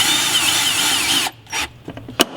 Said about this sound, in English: we're going to drill these back in, screw them back in, like that